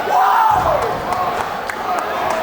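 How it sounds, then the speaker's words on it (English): Crowd at a CZW wrestling event roaring and cheering loudly and continuously, with shouts rising over the din and a commentator talking over it. "Listen to this crowd, John."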